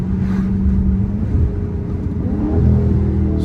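A Dodge Charger's engine drones steadily as the car eases off speed, the low hum shifting slightly in pitch toward the end as the automatic transmission changes gear.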